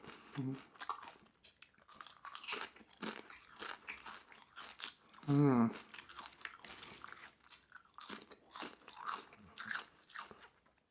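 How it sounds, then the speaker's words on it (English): Close, loud crunching and chewing of tortilla chips at a Mexican food meal, with repeated bites, one especially sharp crunch midway, and a few brief vocal noises between chews. "Tortilla chips are amazing."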